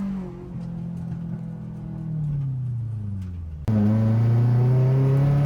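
Stock Nissan 240sx engine revving hard while drifting on an open track, a sustained droning roar that shifts pitch and jumps louder near the end after a clutch kick.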